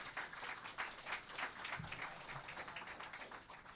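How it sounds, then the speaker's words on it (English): Audience applause at a conference panel session on offshore wind, a steady wash of many hands clapping throughout, moderately distant and sustained without pause. "Give them a round of applause."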